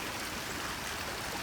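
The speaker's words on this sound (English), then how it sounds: "So there's that waterfall right there." A waterfall on a flooded creek pours in a steady, even rush of water, moderately quiet and heard alone for a brief moment.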